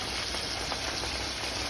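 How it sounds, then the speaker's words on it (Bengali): Pieces of rohu fish deep fry in hot oil, a steady dense sizzle and crackle that holds evenly and close throughout. "এখন রুই মাছ ভাজা হচ্ছে"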